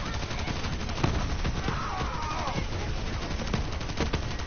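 Dense, continuous gunfire and overlapping shots in the looter-shooter Borderlands 3, steady and busy for the whole stretch with game effects layered in.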